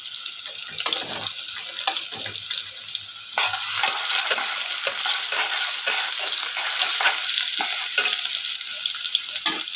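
Chopped dill greens sizzle and fry in a pan while a utensil stirs them, scraping and clicking at irregular intervals over a constant frying hiss, with nobody speaking.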